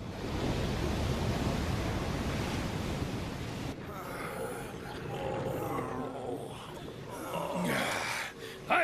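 Roaring ocean waves in an anime sea scene, a loud broad wash of surf that dominates at first, then drops back under a voice and other effects.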